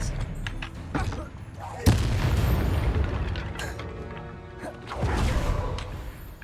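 A Hogwarts Legacy Expelliarmus spell lands with a sharp magical crack and boom, set amid whooshing, rumbling spell effects, with a second swell of impact noise shortly after; a voice speaks faintly in the background.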